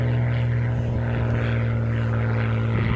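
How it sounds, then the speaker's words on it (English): A Spitfire propeller fighter drones steadily overhead over the Isle of Wight, its loud, continuous engine hum holding level throughout with no talk. "Spitfire right over my head"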